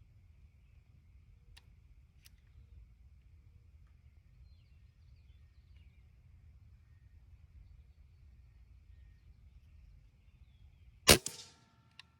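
A single sharp gunshot cracks out at ground squirrels in an open outdoor setting, loud and close with a brief ringing tail after a long quiet stretch.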